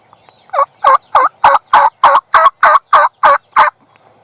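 A wild turkey gobbler gobbles in a rapid run of about eleven loud, evenly spaced notes, close and clear with nothing else over it.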